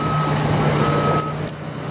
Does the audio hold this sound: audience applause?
no